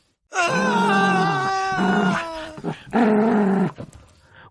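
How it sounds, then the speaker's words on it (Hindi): Dog growling in a dramatic Hindi story: a loud, sustained, wavering growl-groan in several long drawn-out bursts with short breaks, close and alone without speech. "वो गुर्राया, दांत निकालकर गुंडों की तरफ कूद पड़ा।"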